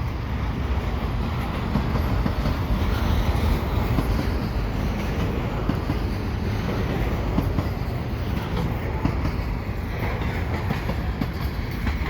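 CN 327, a long mixed freight train loaded with many double-stack cars and pulled by CSX engines, passes close by at the Dorval ramps, with a steady, loud rumble and continuous wheel clatter.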